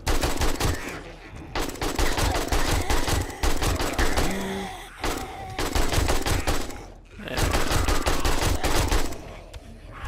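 Bursts of AK rifle gunfire from the zombie survival game 7 Days to Die, loud and close, with rapid strings of shots separated by brief pauses across the stretch.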